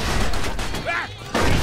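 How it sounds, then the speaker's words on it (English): Automatic rifle fire during a shootout in the video game Mafia 2: a few sharp, fairly quiet bursts of shots mixed with brief voice-like sounds. "They got automatic rifles."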